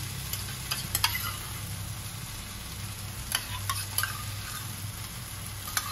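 Paneer bhurji with onion and a little curd sizzles and fries in a pan, a steady soft crackle broken by intermittent scraping clicks of a spoon stirring close by.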